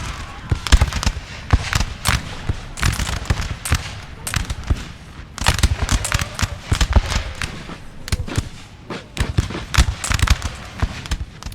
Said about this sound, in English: They don't like these Piedmont volleys.